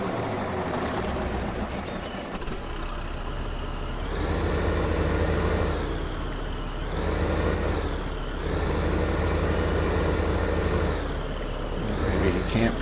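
A tractor engine in a farming game drones steadily for several seconds, its pitch rising and falling in slow swells as it revs while backing up, alone and fairly prominent.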